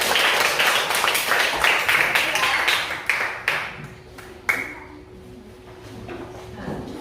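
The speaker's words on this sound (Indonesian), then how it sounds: "Kasih tepuk tangan teman-teman." Children in a classroom clap their hands in a loud burst of rapid applause that thins out after about three seconds, leaving a few scattered single claps and taps.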